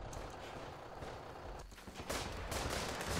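Rapid bursts of gunfire from the trench warfare video game Running in the Trenches on Vigil Island crackle in a dense, continuous fusillade with a sharper volley near the end and no voices over it.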